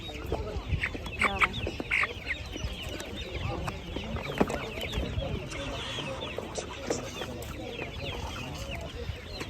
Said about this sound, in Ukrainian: Дуже хороша м'ясна курка, мастер мастергрей.